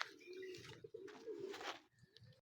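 A racing pigeon arriving at the loft during a derby race, giving soft, close cooing calls with light rustling around it, faint and brief.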